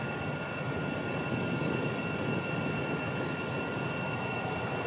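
Aircraft engine just after takeoff in a flight video game: a steady, loud, broadband roar with a constant whining hum, unchanging throughout and with no voices.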